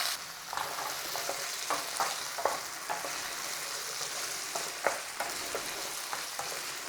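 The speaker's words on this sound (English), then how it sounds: "We're going to give a quick fry on the potatoes, beans and carrots." Potatoes, green beans and carrots sizzle and fry steadily in ghee in a hot pan, with occasional clinks and scrapes of stirring breaking through the constant crackle.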